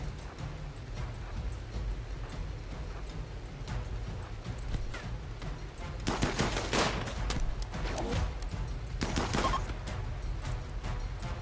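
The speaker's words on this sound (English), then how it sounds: "now stop shooting and wrecking stuff" Gunfire in the colony-building game Rimworld, a steady run of sharp shots over a dense background, with heavier bursts clustering toward the end.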